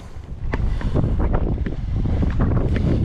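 Wind buffets the microphone in a steady, heavy roar with gusty low rumble throughout, outdoors while perch fishing at Çamlıdere; no one speaks.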